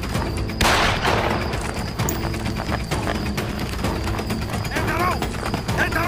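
Gunfire in a Bangladesh Army drama scene: a sharp, loud burst cracks early, followed by scattered lighter shots and clatter over a busy, dense background.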